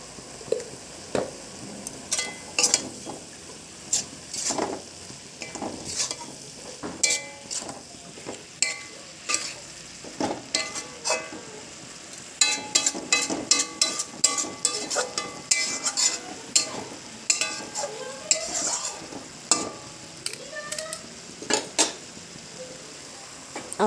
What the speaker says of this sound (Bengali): শাক ভাজাটা আমার হয়ে গেছে, এবারে তুলে নেব।